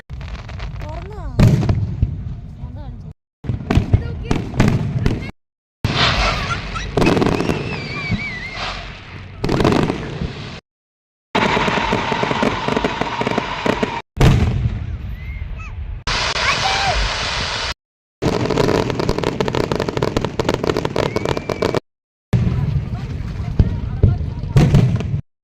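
A fireworks display bursts with repeated loud booms and crackling volleys, heavy and close, with brief silent gaps between stretches of noise.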